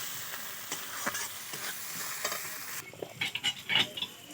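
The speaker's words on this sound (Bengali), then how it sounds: "টমেটো কুচিটা দিয়ে দিলাম, দিয়ে এটাকে একসঙ্গে ভেজে নিতে হবে" Green chillies and chopped tomato are stirred and fried together for a fish curry, with a soft continuous sizzle broken by repeated scraping strokes of a spatula that grow sharper toward the end.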